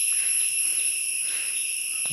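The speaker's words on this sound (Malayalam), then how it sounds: "ചീവീടുകളുടെ ഒക്കെ സൗണ്ട് കിട്ടുക നോക്കിയാൽ" Cicadas shrill in a forest with steady layered high-pitched tones, constant and fairly loud, with no voices and little else around.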